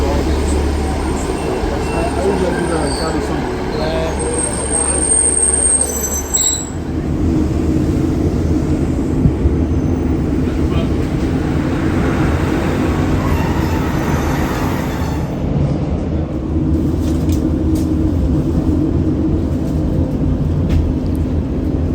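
Class 150 diesel train bound for Treherbert, a loud steady engine drone and rumbling wheel noise throughout, with the pitch of the running shifting partway as the unit pulls along.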